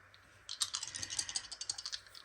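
Astrology dice rattling and clicking as they are shaken and rolled, a quick run of sharp light clatters, close and clear, with no talking.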